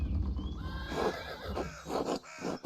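In the video game Pentiment, horses give a clear drawn-out neigh and whinny near a medieval abbey, with snorts and faint hoof shuffling around it, fairly close and without talking.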